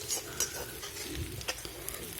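Mustard seeds with crushed ginger and garlic spluttering in hot oil over a medium flame, a steady close sizzle broken by small crackling pops, no voices.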